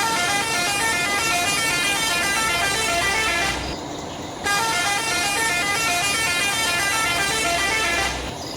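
Hino bus horn sounding in two long, steady blasts separated by a brief gap, loud and close with a bright, buzzy multi-note tone.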